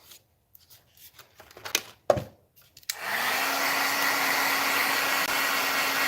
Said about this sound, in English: I'm just going to heat up my embossing gun, my heat tool